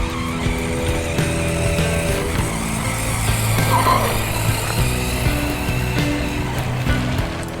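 Wltoys XKS 104001 1/10 scale RC buggy tearing through tall grass at full throttle, its electric motor whining loudly and steadily with rising and falling pitch, close to the listener and with no talking.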